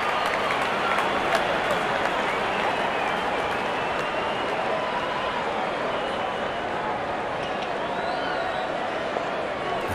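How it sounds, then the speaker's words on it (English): A crowd at a cricket stadium during a one-day international between India and Australia applauds continuously, a dense, sustained wash of clapping and cheering with a commentator talking over it. "Crowd is enjoying every bit of this action."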